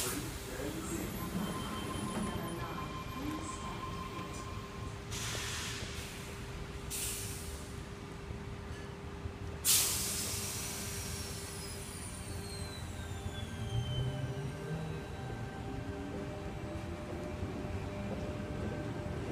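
A Sydney Trains Tangara electric train in service at Seven Hills during the afternoon peak: a steady rumble of running gear and motors with a brief hiss like an air brake release midway, faint speech-like murmur underneath.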